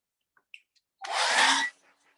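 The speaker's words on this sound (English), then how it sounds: "take my blow dryer again and just hit our moon with the blow dryer" A hair dryer drying acrylic paint on a painting blows steadily with a loud, breathy whoosh for under a second, preceded by a few small clicks and taps.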